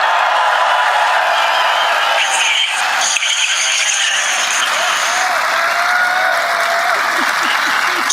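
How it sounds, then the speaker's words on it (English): Large crowd at a rally applauding and cheering, a loud sustained roar of clapping and voices heard over a phone line, with a few faint shouts rising above the mass. "that sounds like a big crowd"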